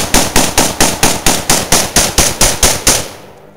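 A rapid string of about twelve sharp, evenly spaced gunshot-like bangs, loud and close, with a fading tail after the last shot.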